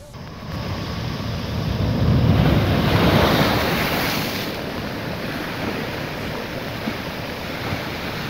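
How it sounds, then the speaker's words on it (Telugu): Cyclone Fengal's storm surf crashes on the Uppada coast near Kakinada, with a steady roar of breaking waves and strong gusting wind buffeting the microphone, loudest early on before easing into a constant rumble. "ఉప్పాడ సముద్ర తీర ప్రాంతంపై రాకాసి అలలు ఉవ్వెత్తున ఎగిసిపడుతున్నాయి."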